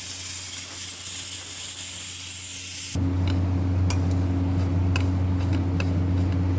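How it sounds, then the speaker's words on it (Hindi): Dried coconut roasting in ghee in a pan for panjiri, a constant close hiss that grows brighter partway through, with faint scattered ticks and clicks of stirring. "खोपरा भी अच्छे से भून रही हूँ मैं, इसको भी गोल्डन ब्राउन कर लूँगी।"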